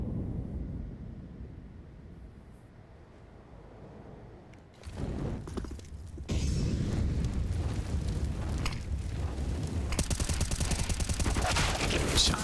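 Gunfire during a Counter-Strike esports match on the Vertigo map, with dense bursts of rapid shots growing louder after a quieter start and ending in sustained heavy firing.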